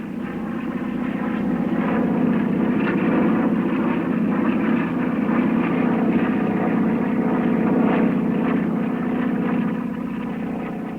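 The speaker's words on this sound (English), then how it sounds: "Bales, with the help of 535 horsepower, brings the Model Z GB City of Springfield to victory" Gee Bee Model Z racing airplane, a 535-horsepower barrel-shaped racer, droning as a steady, even engine roar that holds at constant loudness throughout with no voices over it.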